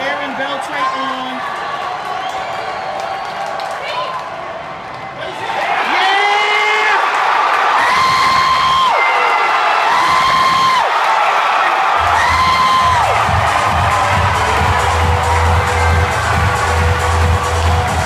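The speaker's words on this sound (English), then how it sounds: "The crowd is on their feet." A loud arena crowd at a Rangers game cheers and roars, with whoops and rising shouts and a swelling wall of sustained noise, close and dense throughout.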